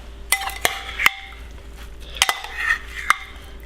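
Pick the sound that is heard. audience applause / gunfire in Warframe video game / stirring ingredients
stirring ingredients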